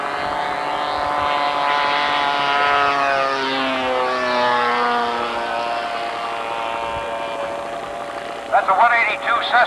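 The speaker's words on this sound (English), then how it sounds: "That's a 182 Cessna that Michael Hart's flying." A Cessna 182 model airplane powered by a YS 91 engine passes overhead at a balloon and flying field event, its loud steady buzzing drone shifting in pitch as it goes by, with a voice breaking in near the end.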